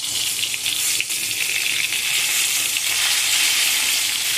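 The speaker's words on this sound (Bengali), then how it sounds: "এই তিনটে বেগুনকেও ভালো করে ভেজে নেব" Eggplant slices sizzle and fry in hot oil, a dense steady crackling hiss close up that continues evenly throughout with no voices.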